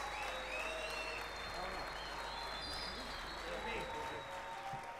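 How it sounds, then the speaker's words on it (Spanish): Audience applause at the close of a jazz quintet concert in Punta Arenas, a steady spread of clapping from a crowd, heard fairly faintly and continuously, with some voices in the room beneath it. "Fuertes aplausos para despedir a estos músicos."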